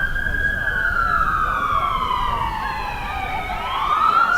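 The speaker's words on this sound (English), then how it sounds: "As we're going to be hearing sirens." Fire department sirens wail loudly at a girls' varsity lacrosse game, a single sweeping tone that slides slowly down in pitch and then rises again near the end over steady background noise.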